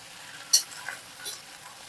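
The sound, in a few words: stirring bottle gourd pieces with tempering in pan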